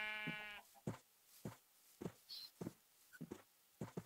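Sheep in a Minecraft video game bleat repeatedly, short wavering baas spaced about half a second apart, fairly quiet and heard alone.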